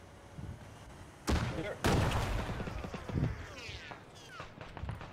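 A rocket launcher fires in Arma 3 with a loud back blast, two heavy booming bursts close together followed by a rumbling tail, with voices talking over it.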